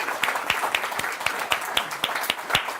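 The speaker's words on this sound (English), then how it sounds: "they all deserve another round of applause, don't they?" Scattered audience applause from a small crowd, individual claps standing out as sharp, fairly close, irregular slaps over a soft wash of clapping, with no talking.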